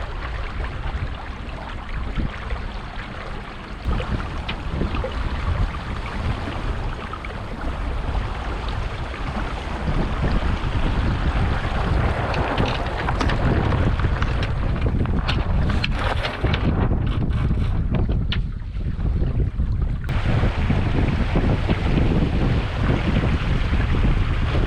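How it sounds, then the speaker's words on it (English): Strong wind buffeting a sailing boat at sea off Scotland's west coast in a tidal sound, a steady loud rushing gust noise with wind hitting the microphone, waves faintly beneath, no talk. "Had to put the reef in, wind got up a bit."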